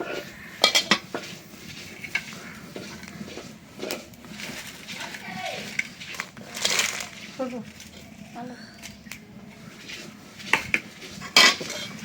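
Dried chillies and garlic are dry-roasted in an empty wok, the utensil scraping and clanking irregularly against the metal in sharp clinks and knocks while someone talks over the cooking.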